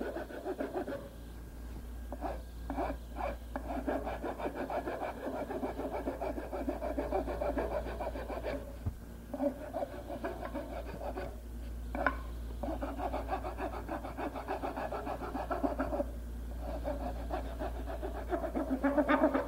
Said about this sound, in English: Finer file.